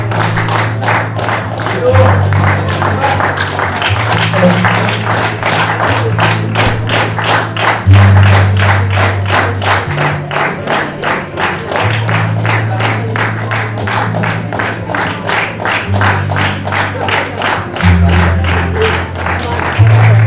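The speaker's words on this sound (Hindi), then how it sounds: "जोरदार तालियां।" Loud, steady applause from a gathered crowd at a book inauguration ceremony, dense rhythmic clapping running continuously for about twenty seconds alongside faint background voices.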